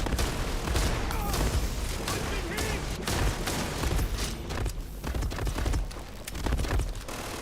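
Shotgun blasts fired in the space game Starfield, a dense run of loud, sharp bursts repeating every second or so over a busy backdrop of game noise and effects.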